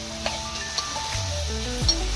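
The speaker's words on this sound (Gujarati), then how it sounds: "ડુંગળી બટાકાની શાક વઘારી દીધી મિત્રો," An onion and potato curry crackles and sizzles in a pan as the tempering hits it, a close, steady hiss with light stirring. Faint tonal background sounds run underneath.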